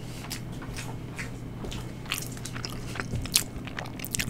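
Close, crisp biting and chewing of chicken and beef tacos with rice, beans and cheese, wet crunches and squishes in irregular bursts, with one sharper crunch near the end; no talking.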